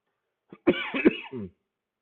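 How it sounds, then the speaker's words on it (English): A short fit of coughing, several rough hacking bursts close to the microphone, then silence. "Sorry, I'm coughing."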